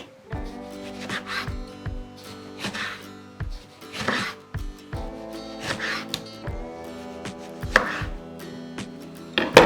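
A knife chops through tomatoes into rings on a board, sharp repeated cuts in an uneven rhythm, close and clear with no talking.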